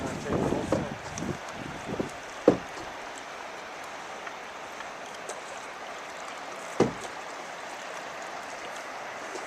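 River rapids rush past a canoe in a steady broadband roar, joined by wind buffeting and a couple of sharp knocks near the boat.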